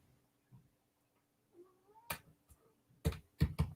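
A cat indoors gives a short, soft rising meow, followed by a few sharp clicks and taps in an otherwise quiet room.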